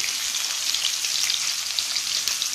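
Onions and green chillies fry in oil for brinjal sambar with a continuous crackling sizzle, steady and fairly close, with no voices.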